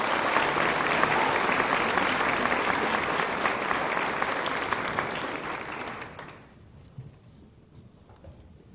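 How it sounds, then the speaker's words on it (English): Audience applause for trumpet and vocal soloists at a school holiday chorale concert, a dense steady clapping that fills the room for about six seconds, then dies away to a few scattered claps. "Give them a big round of applause, please."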